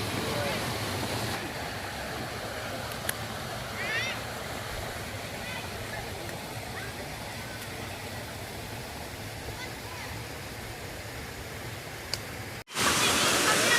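A waterfall running low with muddy water gives a steady, full roar of rushing water that holds constant throughout, ending in a sudden burst of louder noise.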